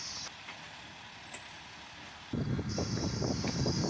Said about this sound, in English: We would get ahead of it one more time to catch the train, returning into town and back to the station.